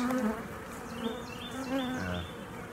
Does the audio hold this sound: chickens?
no